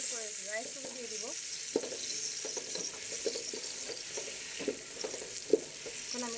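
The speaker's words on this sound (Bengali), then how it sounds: "এখন আমি বাকি সবজিটা দিয়ে দিচ্ছি, ক্যাপসিকামগুলো দিয়ে দিচ্ছি। এটা আমি 10 মিনিট মতো ভেজে নেব।" Carrots, capsicum and other vegetables frying for fried rice give a soft, even sizzle throughout, with a few light stirring knocks and a quiet voice talking over it.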